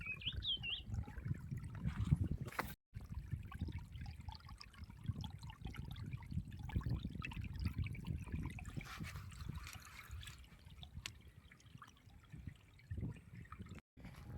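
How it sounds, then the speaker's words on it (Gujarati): A forest stream flows slowly near a campsite, giving a faint, soft, continuous trickle with small gurgles. It sits low and distant behind quiet background hiss. "અહીંયા પાણી જાય છે તમે જોઈ શકો છો ધીરે ધીરે"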